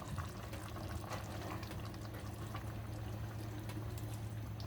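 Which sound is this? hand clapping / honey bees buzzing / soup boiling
soup boiling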